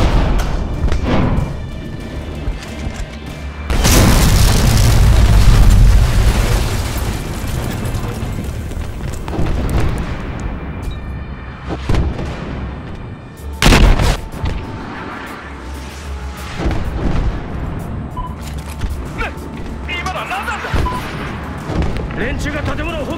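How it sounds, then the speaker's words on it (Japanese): Artillery shells slam into a building during a Battlefield Hardline campaign mission, a heavy booming blast followed by rumbling debris and further crashing impacts, with gunfire and voices mixed throughout. "連中が建物を砲撃しやがった。"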